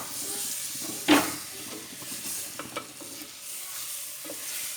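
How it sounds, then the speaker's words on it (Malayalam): Washed chicken is dropped into a hot pan of masala for a Malabar varutharacha chicken curry, giving a sudden loud sizzle, then softer frying hiss with scraping stirs. "ഇനി ഇതിലേക്ക് നമുക്ക് കഴുകി വെച്ചിട്ടുള്ള ചിക്കൻ ഇട്ട് കൊടുക്കാം"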